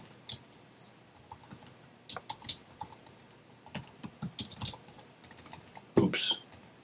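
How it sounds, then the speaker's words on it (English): Typing on a computer keyboard while working in a Google Docs checklist, with irregular bursts of close key clicks and short pauses, plus a louder clack near the end. "we're going to continue to type"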